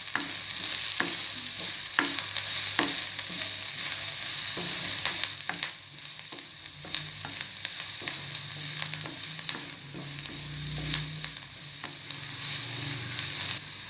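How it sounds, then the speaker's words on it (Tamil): Onions sauté in a pan with pepper powder and salt, a constant close sizzle broken by repeated scraping and tapping strokes of a spoon stirring through the mixture. "இதே நல்லா வதக்கிக்குவோம்."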